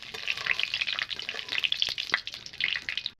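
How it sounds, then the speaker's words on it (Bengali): Mustard oil sizzling in a pan makes a high, crackly hiss full of small popping spits, fairly close and moderately loud, with one or two faint utensil taps. "আমি এখানে সরষের তেল দিচ্ছি।"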